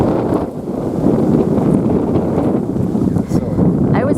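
Strong wind gusts at Upson Falls Campground, beside a waterfall, roar steadily and close without a break, with low rumbling buffeting throughout.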